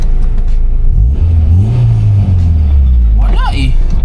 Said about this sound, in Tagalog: At gusto ko lang marinig ulit yung VTEC na ito ni Barak.